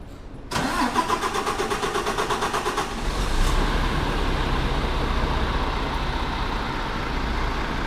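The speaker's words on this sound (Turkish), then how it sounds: "Hadi bakalım ilk marş geliyor." A car engine starts after a service: a quick cranking whir, then the engine catches and settles into a steady, close idle rumble, with no talk.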